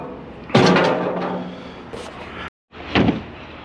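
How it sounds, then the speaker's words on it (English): A door swinging shut during curbside urban scrap collecting, a loud thud followed by a second knock, with a sharp cutoff in between. "Door just closed."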